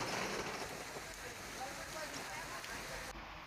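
Heavy rain from a thunderstorm in Pune pours down in a dense, steady hiss of drops striking surfaces, loud and unbroken throughout.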